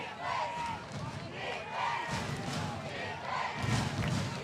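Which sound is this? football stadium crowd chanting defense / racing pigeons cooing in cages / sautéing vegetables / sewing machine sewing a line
football stadium crowd chanting defense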